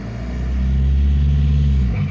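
A 1.9L TDI diesel engine in a one-ton Dodge Dakota revs in gear while loaded, a loud, deep rumbling drone that swells and holds steady before easing off at the end, with no talking.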